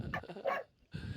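A dog barks in two quick, fairly quiet yaps, then falls silent and gives another muffled sound at a moderate distance in the room.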